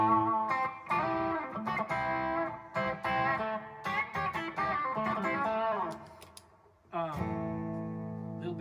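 An electric guitar plays a country lead line through a Zen Drive overdrive pedal. The notes are mildly driven and picked with quick runs and bends, then a brief pause before a sustained chord rings out.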